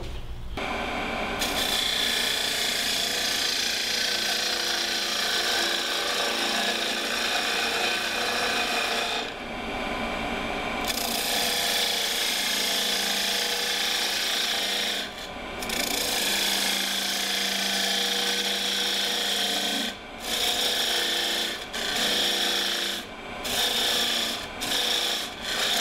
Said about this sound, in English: I'm going to use the Forstner bit to hollow the whole thing out